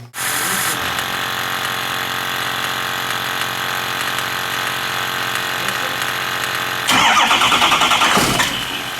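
A 6.0L diesel engine cranks and fires after an EGR cooler and oil cooler replacement, then settles into a loud, steady idle close by, with a harsher rattling surge near the end.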